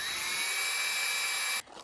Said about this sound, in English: we are just gonna go through and drill a couple pilot holes